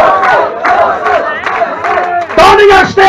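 A Vienna boxing crowd shouts and cheers loudly, overlapping voices rising and falling in waves, with a louder surge of yelling near the end.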